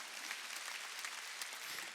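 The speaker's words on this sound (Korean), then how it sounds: "박수 치라 이게야." Applause from a church congregation during a Sunday worship service, a steady wash of many hands clapping at moderate distance with no clear individual claps standing out.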